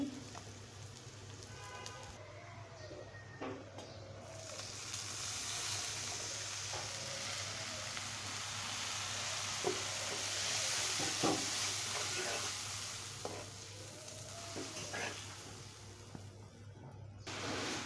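Garlic sizzling in hot oil while onions fry in a pan for ilish (hilsa) fish curry, a steady soft crackling hiss with a low hum beneath and occasional faint clinks throughout.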